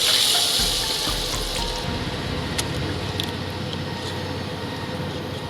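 Water pours into a cooking pot outdoors on a rooftop on a winter morning, a loud rushing splash at first that settles into a steadier, softer flow.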